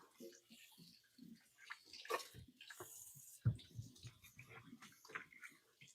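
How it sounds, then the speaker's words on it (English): Hands being washed under a running kitchen tap to rinse off frying batter, with splashing water and faint intermittent talk. "So I'm going to wash my hands real quick."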